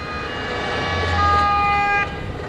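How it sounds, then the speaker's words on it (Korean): A Bourne Identity Mini Cooper car chase soundtrack plays through the surround audio system inside a Lexus LM500h minivan: steady engine rumble with sustained horn- or siren-like tones that swell midway and then cut back, with no talk. "본 아이덴티티에서 미니 쿠퍼 가지고 차량 추격전 한 장면 있잖아요."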